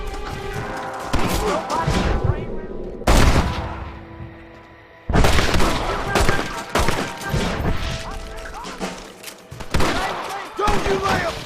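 Repeated gunfire in the Western video game Red Dead Redemption: loud shots and booming blasts burst out in irregular clusters, with brief lulls and one near-silent gap, amid shouting voices and game action.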